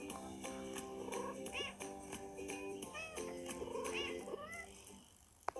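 Cartoon cats meow repeatedly in a cat puzzle video game, a run of cute, tonal meows over steady game music, quiet overall.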